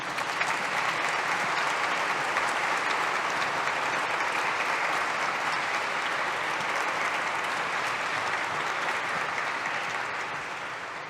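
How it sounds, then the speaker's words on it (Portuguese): Sustained, dense applause from a concert audience at an Easter concert, steady and full for the whole stretch before easing slightly at the end, with no talking over it. "pelo qual peço uma salva de palmas"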